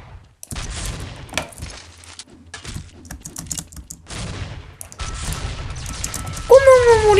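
Gunfire in a Counter-Strike match, with bursts and single shots crackling over clattering keyboard typing, plus a rising whine near the end; players talk at points between the shots.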